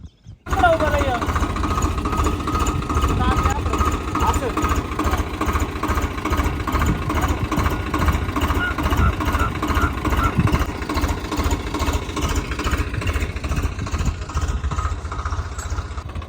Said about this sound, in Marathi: हा जो ट्रॅक्टर आलाय तर तो सारे पाडण्यासाठी आलाय